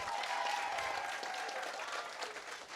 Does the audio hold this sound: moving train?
no